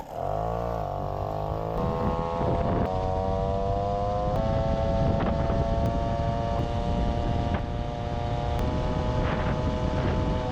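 An MBK 40V moped with an Airsal 70 kit, SHA 15 carburettor and 3x4.5 g variator rollers runs loud and steady, its engine pitch rising and holding with a few brief throttle blips and no talking.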